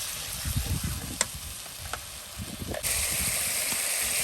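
Ginger garlic paste frying in a pan gives a moderate sizzle with a few sharp ticks, then a fuller, louder hiss that holds steady to the end.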